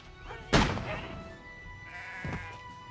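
A firecracker bursts with a sharp bang in the video game Renowned Explorers, followed by a sheep bleating, then a second thud and another bleat over faint background music.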